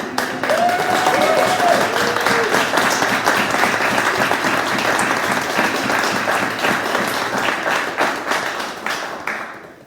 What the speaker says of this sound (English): So I think we really have to applaud